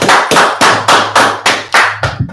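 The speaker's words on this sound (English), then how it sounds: "clap it up, clap it up" Clapping from an audience at a religious gathering, about eight loud, sharp, evenly spaced claps in a steady rhythm, close and alone without talk.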